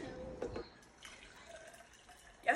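Freshly juiced homemade apple juice is poured into a glass, giving soft, quiet liquid trickles and splashes with a small clink near the end, with no talk.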